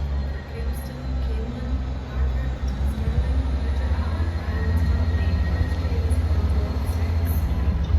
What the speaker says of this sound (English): Departing out now is the 1605 ScotRail service from Edinburgh Waverley to Dundee.